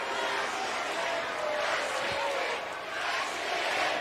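A large wrestling arena crowd at a SmackDown event chanting together, a dense roar of many voices with a rhythmic chant rising and falling throughout.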